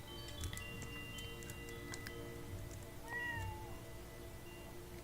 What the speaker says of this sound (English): Hello, Cheswick kitty.